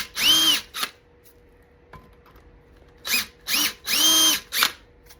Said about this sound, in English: you have to drill down about a 1/16 of an inch straight